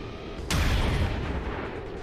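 A single loud sniper shot in XCOM 2, a sharp crack followed by a deep booming tail that fades over about a second.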